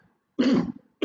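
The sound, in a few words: unexpected cough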